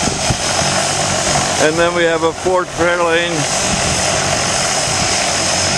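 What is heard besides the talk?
propeller plane engine preparing to take off with skydivers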